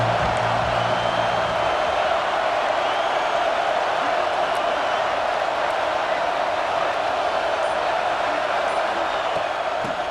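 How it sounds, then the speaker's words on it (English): Stadium crowd noise from EA Sports College Football 26, a steady, loud wash of roaring fans that holds evenly for about ten seconds, with faint whoops and commentary-like voices under it. "This crowd ready to make its presence known."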